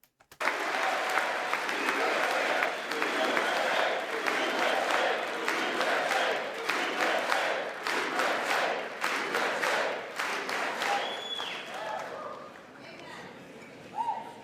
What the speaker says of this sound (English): That's why you clap. That's why you cheer.